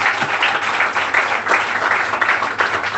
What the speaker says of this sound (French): Applaudissons pour notre frère.